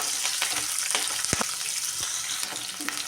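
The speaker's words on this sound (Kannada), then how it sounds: "ಇದೆಲ್ಲ ಹಾಕಿದ ನಂತರ ನಾವು 3 ಹಸಿಮೆಣಸಿನ್ಕಾಯಿ, 1 ಈರುಳ್ಳಿ ಹಾಕಿಬಿಟ್ಟು ಚೆನ್ನಾಗಿ ನಾವು ಫ್ರೈ ಮಾಡ್ತೀವಿ." Green chillies, onion and curry leaves fry in a pan for coconut masala chitranna, giving a constant crackling sizzle broken by a few scraping stirring strokes.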